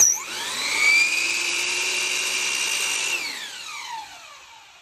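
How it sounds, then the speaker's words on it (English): Miter saw slicing through a small millwork trim piece: a loud, steady high whine spins up, holds through the cut for about three seconds, then winds down as the blade slows. "So I'm gonna go ahead and cut."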